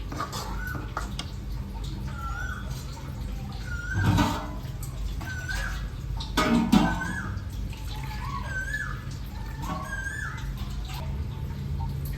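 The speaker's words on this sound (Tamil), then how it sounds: "தண்ணி விட்டுறேன்." Water is poured into a cooking pot while preparing vendakkai mor kulambu, an okra and buttermilk curry. The pouring is a soft, steady splash that rises briefly in two places, with birds chirping and a rooster in the background.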